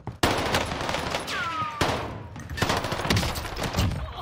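MP40 submachine gun firing in a video game, loud rapid automatic bursts starting abruptly and continuing with brief pauses, close and dominant, with a faint descending whistle in between.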